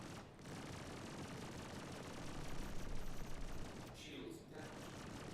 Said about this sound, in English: I can see his cannon rounds coming at me.